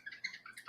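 A bird-shaped wine aerator chirps as wine pours through it, giving a quick run of high, whistly bird-like tweets, several short chirps in under a second, fairly faint and with no talk over them.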